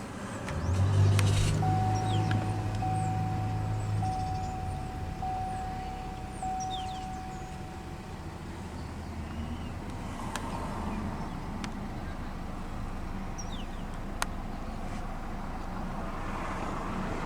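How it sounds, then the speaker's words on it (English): A 2014 Cadillac CTS 2.0T Luxury AWD with push-button ignition cranks and starts with a brief low surge, then settles into a steady, quiet idle rumble for the rest of the clip with no talk. "let's go ahead and start the engine"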